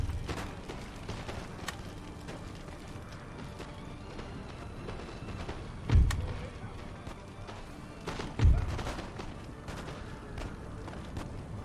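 Cannon and gunfire in an Empire: Total War battle during a Prussia campaign, where cannons and howitzers fire. Two heavy booms stand out from scattered crackling shots and a busy battlefield background.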